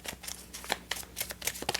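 Tarot cards being shuffled by hand, a close series of crisp riffling bursts and soft slaps in an irregular rhythm, clear and moderately loud with no talking.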